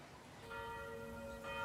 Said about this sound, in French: Dans le canton de Neuchâtel, au village de Savagnier, les cloches ont sonné pour Eddy, décédé en pleine crise sanitaire.